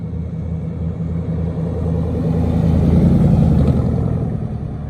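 A vehicle fitted with tractor tires cruising on a road, a heavy low engine rumble with a pulsing tire drone that swells slightly toward the middle, steady and close with no talking.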